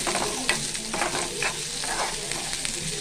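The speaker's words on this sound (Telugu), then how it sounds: "సన్నగా తరిగిన ఉల్లిపాయ అండి, అది కూడా వేసుకొని ఈ ఉల్లిపాయ మంచిగా ఉడకనండి" Finely chopped onions frying in a pan for prawn curry, a dense continuous sizzle with repeated stirring scrapes, close and steady, with no voices.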